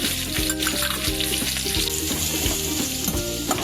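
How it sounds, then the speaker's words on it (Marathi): Grated garlic and curry leaves fry in hot oil with a dense, continuous sizzle and crackle, close and loud, with occasional stirring scrapes and spatters throughout. "तीन ते चार पाकळ्या लसूण किसून घेतला मी तो टाकले थोडासा कढीपत्ता"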